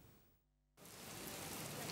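Heavy storm rain with strong wind in a Mogilev region town, starting after a brief near-silent gap and building into a dense, steady roaring wash of rain.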